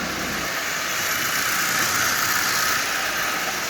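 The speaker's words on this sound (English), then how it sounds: "this little locomotive is running" A Lionel 8200 dockside switcher model locomotive with red wheels, running on AC, gives a steady, continuous motor hum and whir that stays even throughout, with no voices.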